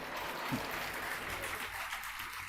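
A classroom audience claps together in a steady, dense burst of applause that fills the whole moment with no pause.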